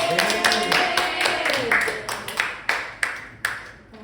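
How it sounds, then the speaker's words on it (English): Classroom applause during a micro-teaching lesson, starting as a quick patter of many hands and thinning into a few loud, separate claps at the end. "Give a round of applause."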